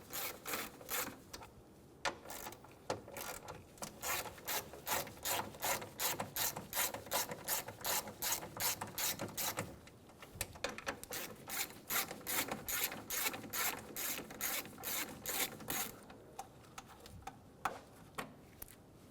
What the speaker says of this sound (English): Remove the 10mm bolts for the coolant reservoir.